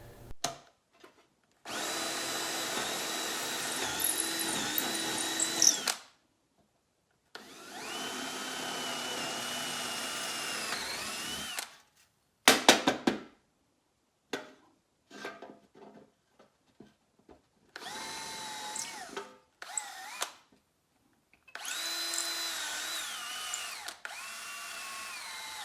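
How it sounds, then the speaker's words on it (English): Power drill boring holes into a homemade phone holder, several loud whirring bursts of a few seconds each, separated by pauses and short clicks and taps. "When doing the first hole, you want to drill all the way into the channel and to the back edge."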